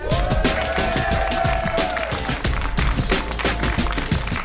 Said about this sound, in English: A big round of applause for Ryan Mason